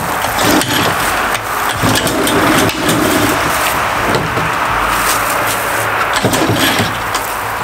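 An Echo PB-580T backpack blower engine starts after a pull and keeps running with a loud, steady, broadband roar that fills the whole stretch, with no talk.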